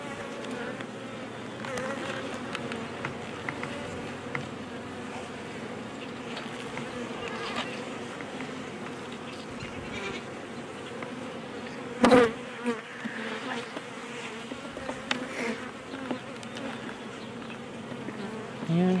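Honey bees hum and buzz steadily throughout a hive inspection, a dense close swarm drone with a few sharper passes and brief louder buzzes as individual bees fly near.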